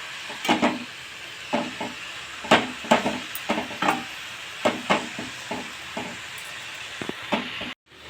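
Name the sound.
stirring fenugreek greens frying in pan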